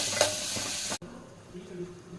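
Onions with ginger garlic paste and turmeric are stirred in a pan, a soft sizzle with a few scraping strokes, then a brief quieter stretch of faint frying, close and fairly quiet.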